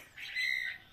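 A young caged bird gives one short, high chirp of about half a second, clear and close, with no voices.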